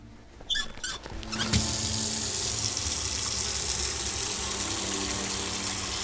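Water pours from a tap into a container in the Autopsy Simulator game, starting after a few brief clatters and then settling into a loud, steady rushing fill that continues to the end.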